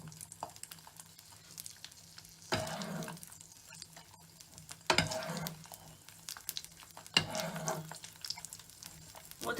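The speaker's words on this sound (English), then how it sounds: "Continue to spoon hot butter over the top of the egg." A sunny-side-up egg frying in a pan while hot butter is spooned over it, with a soft steady sizzle and three louder splashy bursts as the butter is basted on, no talking.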